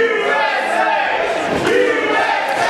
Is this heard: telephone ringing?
no